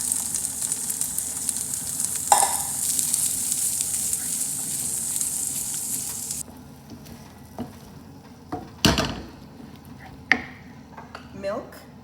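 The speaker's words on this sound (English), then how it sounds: "I'm going to now add my soup, undiluted, mushroom soup," Undiluted cream of mushroom soup goes into a pan of sizzling garlic. The loud hiss stops abruptly, and a few knocks and scrapes of a spoon against the pan follow.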